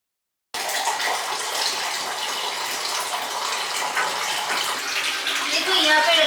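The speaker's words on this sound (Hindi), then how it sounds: "तो पहले मैं मटके को धो लेती हूँ।" Water gushes steadily into a clay matka pot being washed, a close and continuous pouring that starts abruptly and swells slightly toward the end.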